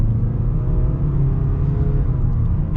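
A 2.5-liter engine in a 2022 Mazda CX-5 Select pulling through traffic, a steady loud low rumble and whir of the motor under load that holds evenly throughout, with no talking.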